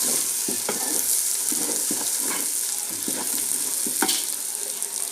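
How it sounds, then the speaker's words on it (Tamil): Chili powder and ingredients sautéing in a pan for homemade chicken noodles, a steady close sizzle and fry with repeated scraping stirs of a spoon against the pan. "இது நல்லா வதங்கட்டும்."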